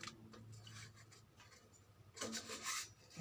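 Sandpaper rubbed by hand over a motorcycle cylinder block, faint dry rasping strokes in irregular bursts, with a louder scrubbing run near the end, no talk.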